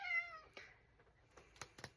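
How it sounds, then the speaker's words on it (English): A cat gives one clear, drawn-out meow near the start, followed by quiet rustling and a few sharp clicks or taps close by, with no talking. "Sorry about the cat interruptions."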